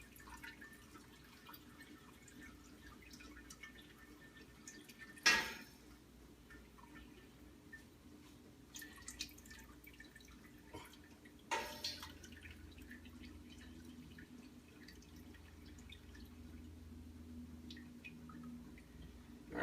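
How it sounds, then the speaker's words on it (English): A bag of steeped beer grains drains into a pot, giving off faint scattered drips and trickles over a low hum, with two louder splashy sloshes partway through. "we'll let her drain."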